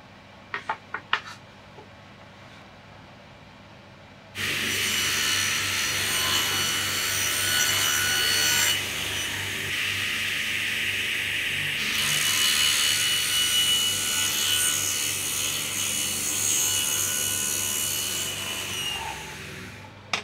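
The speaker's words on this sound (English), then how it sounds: "I cut them to the final width of the table saw" Table saw ripping wood parts to final width in a woodworking shop; a few light knocks, then a loud, sustained high-pitched whine as the blade cuts through the board for about sixteen seconds before winding down.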